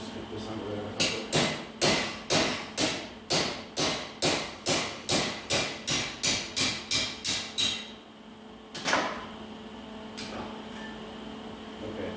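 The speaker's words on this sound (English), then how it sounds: "We need a bigger hammer." A hammer pounds on a welded metal joint in about sixteen evenly spaced, ringing blows, then a pause and one last strike, heard close and alone.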